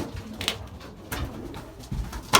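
Belgian racing pigeons cooing in a loft, soft low repeated coos and wing rustles close by, with a few sharper bursts and no talk.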